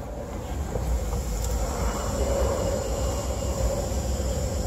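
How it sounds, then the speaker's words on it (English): A steady low rumbling roar of an airplane passing overhead near an airport, continuous and fairly loud throughout, with no talking. "Hear the airplane?"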